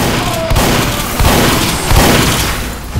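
Dense video game gunfire from Team Fortress 2 aimed at a sentry gun, a continuous loud rattling barrage with heavy low booms swelling every second or so, no voices.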